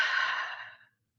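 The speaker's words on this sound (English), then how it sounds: "Out through the mouth." A single long breath pushed out through the mouth during a guided breathing exercise: a close, soft, airy exhale that fades out after about a second, with no talking.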